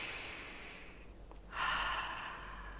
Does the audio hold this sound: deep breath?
yes